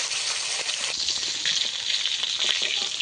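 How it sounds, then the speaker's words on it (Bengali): Fish heads, from kalbaus and rohu caught live from a pond, fry in hot oil with a steady, dense sizzle and crackle that holds loud and close throughout, with no voices. "মুড়োগুলো ভালোভাবে ভাজা হয়ে গেছে তুলে নেব"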